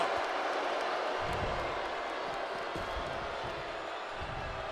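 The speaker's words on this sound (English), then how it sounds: "And Nia is revving this crowd up." Wrestling arena crowd in the WWE 2K24 video game, a constant low roar of cheering with a few soft thuds underneath, moderately quiet and steady throughout.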